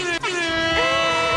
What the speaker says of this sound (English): The air horn.